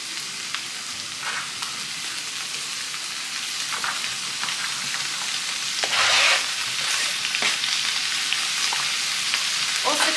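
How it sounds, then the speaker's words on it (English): Fresh garden greens hitting a pan of sizzling garlic, giving a steady, close frying hiss with occasional stirring scrapes and a brief louder crackle partway through; no talking. "so that garlic started to sizzle, so I'm going to add in my greens."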